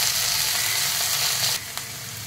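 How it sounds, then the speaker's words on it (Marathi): Chopped sponge gourd sautéing in a hot pan, a loud, even frying hiss that drops noticeably in volume near the end, followed by a single light tap of a spatula; no talking. "आता चिरून घेतलेला घोसावळं, आता घोसावळं अगदी 1 मिनिट आपण आहे ना ह्याच्यात परतून घेऊया"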